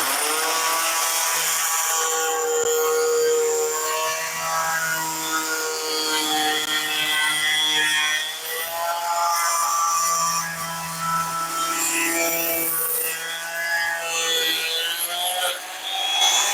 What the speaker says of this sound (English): I'm just going to do a slice right here and make it nice and level with my multi-tool.